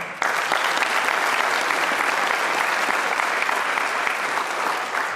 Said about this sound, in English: Just a quick round of applause for them.